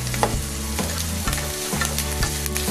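Dried chillies and chopped onion fry loudly in hot oil over a medium flame for jhal muri, a steady close sizzle broken by repeated stirring strokes and scrapes, with no speech.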